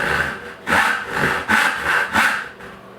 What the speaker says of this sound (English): I've got my tenon all set up here and I'm ready to saw